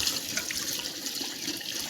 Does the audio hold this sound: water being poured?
yes